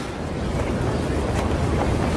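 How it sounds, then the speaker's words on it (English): Strong wind at a high-rise construction site in New York City roars steadily and loudly, buffeting the microphone with a dense, continuous rush and no voices. "you can see it's too windy"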